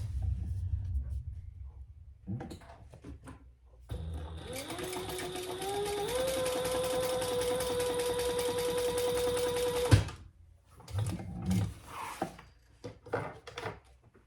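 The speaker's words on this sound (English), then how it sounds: "Now we're going to sew underneath that next card slot." A sewing machine stitches through long cardstock fabric along the card slot of a Gemella wallet, running steadily for about six seconds between quieter handling sounds of fabric and the work being moved.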